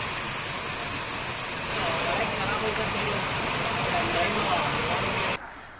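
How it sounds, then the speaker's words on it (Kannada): Heavy downpour in Maddur, Mandya, a steady dense roar of rain drumming on surfaces, loud and constant, cutting off abruptly near the end. "ಮಂಡ್ಯದ ಮದ್ದೂರಿನಲ್ಲಿ ಧಾರಾಕಾರ ಮಳೆಯಾಗಿದೆ."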